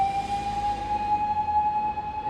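A fire engine siren sounding in Japan, a single steady sustained tone held at a constant pitch, moderately loud and somewhat distant over low rumbling background noise, no talk.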